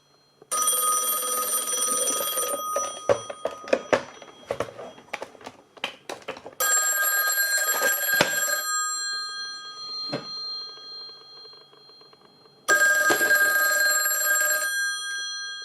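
A Western Electric 500 telephone with a new ring capacitor rings loudly in three bursts of bright metallic bell clangs, and clicks and rattling handling noises fill the gaps between rings.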